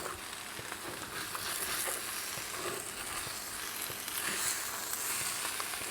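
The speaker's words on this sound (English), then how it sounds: "Now we're just gonna stir this up, flip it over a little bit." Roasted poblano brisket hash fries in a pan, a loud continuous sizzle with scraping and stirring movements throughout, no voices.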